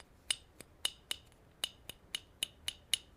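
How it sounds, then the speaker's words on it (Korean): A golf 7-iron head is tapped close to the microphone about ten times, each hit a bright clinking tick with a short ring, evenly spaced. "7번 아이언을 가지고 마이크에 대고"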